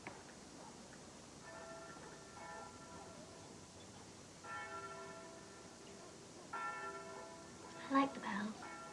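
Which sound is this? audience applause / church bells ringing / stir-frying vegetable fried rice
church bells ringing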